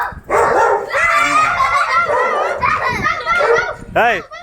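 A child mimics a dog's barking with a voice, producing a run of loud, close yaps and yips on a walk to the park, with other children's voices mixed in and a final sharp bark-like cry.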